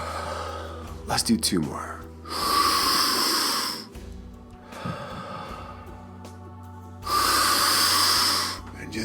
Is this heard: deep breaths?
yes